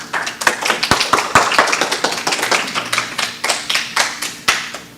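A congregation at a Sunday church celebration service claps, with sharp, irregular hand claps scattered across a steady wash of applause that carries on throughout without any voices.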